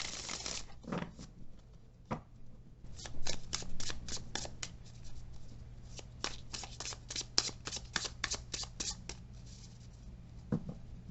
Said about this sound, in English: So here is a clip of how the deck shuffles